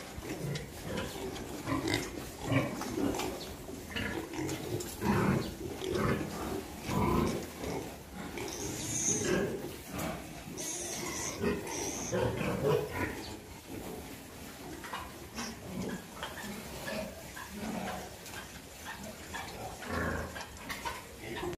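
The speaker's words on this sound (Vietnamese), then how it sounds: "Bây giờ mình sẽ đi cho heo con uống." Piglets and sow pigs grunt on a farm, with overlapping snorts and squeals from a group of animals close by, busy and continuous.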